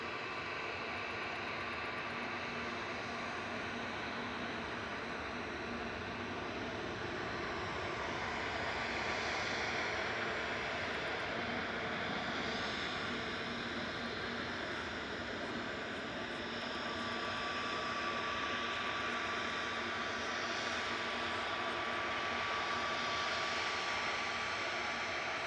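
A Cathay Pacific Airbus A350-900 jet at Manchester Airport gives a steady, moderately distant roar that swells slightly and holds for the whole stretch, with no voices.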